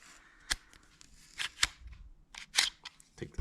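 A Taurus GX4 XL 9mm pistol is dry fired during takedown, giving a faint, sharp click among several small mechanical snaps and handling noises, heard up close.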